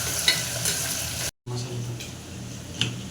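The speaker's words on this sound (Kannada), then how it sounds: "ಒಗ್ಗರಣೆಯಲ್ಲಿ ಮಟನ್ ಹಾಕೊಂಡು ಫ್ರೈ ಮಾಡ್ಕೊತಾ ಇದ್ದಾರ." Cooked mutton sizzles in a spiced tempering, a steady close frying hiss with stirring scrapes, cut by a brief dropout before the sizzle resumes.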